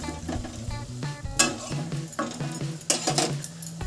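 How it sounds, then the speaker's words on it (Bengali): A spatula stirs banana stem paturi in an oiled pan, with scraping strokes and a few sharp metallic clinks over a low frying sizzle, close and fairly loud, with no voices. "আবার খুন্তি দিয়ে একটু নাড়াচাড়া করে নিচ্ছি"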